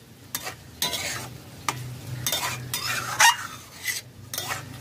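A Bengali cauliflower roast cooking with milk in a pan gets stirred in short bursts. About six scraping strokes of a spatula rasp against the pan over a low simmering sizzle, close and with no talk.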